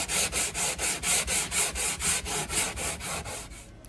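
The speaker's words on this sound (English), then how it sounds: "I need to sand the excess of ½ millimeter by hand" Hardwood sailboat washboard being sanded by hand, a steady rhythm of about a dozen close, loud rasping strokes, each a rough swish of abrasive on dense wood, with no voices.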